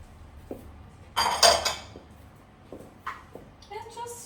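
Greens going into a pot of kitchari, rice and sweet potato porridge, with clattering metal pot and utensil knocks and a brief scrape of stirring while a person talks over it.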